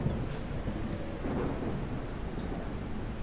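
Thunderstorm in a wilderness survival video game, with a steady loud roar of rain and rolling thunder filling the whole clip, no voices over it.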